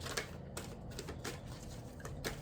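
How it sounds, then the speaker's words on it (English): Tarot cards being shuffled by hand, a series of quick papery riffles and taps close by, quiet and with no talking. "hold on, let me shuffle it again."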